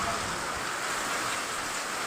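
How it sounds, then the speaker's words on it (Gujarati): Heavy rain pours down in a village, a dense, even roar of falling water that holds steady and fairly loud throughout without pauses. "બગડાટી બોલે છે વરસાદની."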